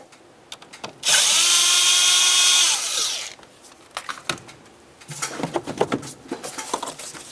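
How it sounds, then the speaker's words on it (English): A power tool whirs loudly for about two seconds on a 2006-10 Ford Explorer during EGR tube work, loosening a clamp with an 8mm fitting, followed by scattered clicks and rattles of parts being handled. "use an 8mm to loosen this clamp, and we can get this right out of the way."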